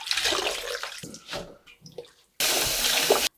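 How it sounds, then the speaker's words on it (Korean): Tap water runs into a basin to soak freshly trimmed butterbur shoots with soil on their roots, a steady broadband rush that starts abruptly near the end after quieter trickles and handling sounds. "물을 받아서 이렇게 뿌리 부분이 흙이 좀 많이 있기 때문에 좀 물에다가 좀 담가 둘게요"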